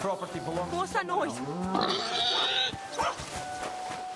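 A pig in the video game Kingdom Come: Deliverance 2 grunts and squeals in a few rough bursts at close range, mixed with in-game sounds and someone talking over it.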